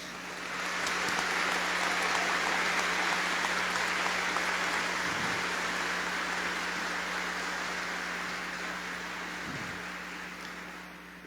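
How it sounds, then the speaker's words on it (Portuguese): A church congregation at a Mass gives a sustained, dense round of applause welcoming an archbishop cardinal, a steady wash of many hands lasting over ten seconds and fading slightly near the end. "Toda a Assembleia é convidada a acolher o nosso arcebispo cardeal Dom Leonardo Steiner com uma vibrante salva de palmas."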